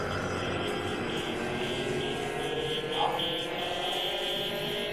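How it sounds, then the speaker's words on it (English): A robot is destroyed in the video game Nier Replicant, with a dense, steady mechanical drone and rumble that stays loud throughout and peaks in a brief burst near the middle. "The sweet sound of robot death."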